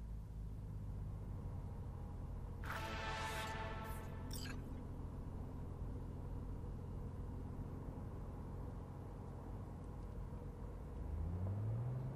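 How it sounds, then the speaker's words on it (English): A car drives through Night City in the Cyberpunk 2077 video game, its engine giving a steady low rumble throughout, with a brief bright chime-like burst early on and no voices. "Leave it to me, Mano. I'm driving"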